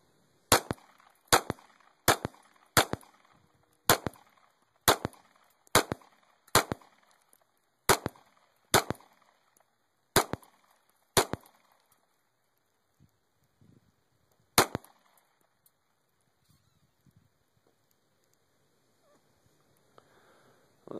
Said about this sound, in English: But let's shoot some pumpkins.